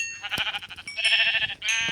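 Sheep in a video game bleat in quick succession, a string of close, loud wavering bleats with brief gaps between them.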